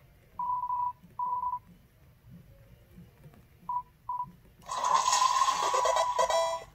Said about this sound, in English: I had flushed the toilet and it had a Mario sound.